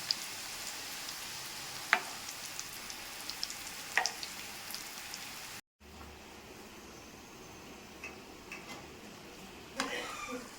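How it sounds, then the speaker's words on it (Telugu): Kajjikaya pastries deep fry in hot oil in a kadai, a steady soft sizzle and bubbling with occasional louder pops and ticks, continuing quietly throughout with a brief break partway. "నూనె బాగా వేడయ్యాక ఇలా వేసి వేయించుకోవాలి"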